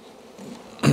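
A honeybee colony buzzes during an early-spring hive inspection in March: a low, steady insect drone that ends in a sudden, louder burst of buzzing close by.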